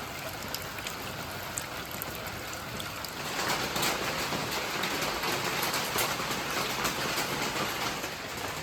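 Steady rain patters densely on a surface, growing noticeably heavier partway through and continuing as a constant wash of drops.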